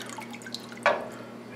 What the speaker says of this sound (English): I'm now adding a teaspoon of calcium chloride